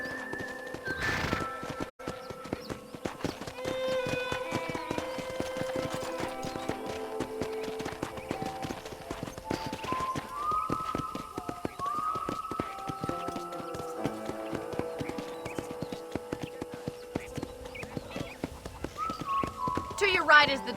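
Horse hooves clip-clop steadily as a rider trots around a ranch in the video game Red Dead Redemption, a rhythmic patter running under game music and spoken dialogue.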